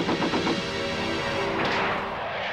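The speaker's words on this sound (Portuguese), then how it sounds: "Morra com um tiro explosivo de" Explosive rock-shot attack in an anime fight: a dense, roaring blast that rumbles loudly throughout, with a sharper crackling burst partway through, over a broad continuous din.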